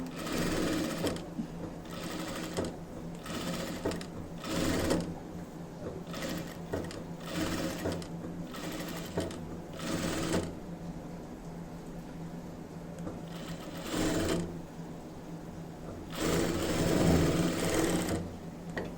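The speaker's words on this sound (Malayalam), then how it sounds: "എന്നിട്ട് ഫസ്റ്റ് ഈ നെക്ക് അങ്ങോട്ട് സ്റ്റിച്ച് ചെയ്തെടുക്കാം." A sewing machine stitches the neckline of a garment in repeated bursts of close, steady whirring, with short pauses between runs.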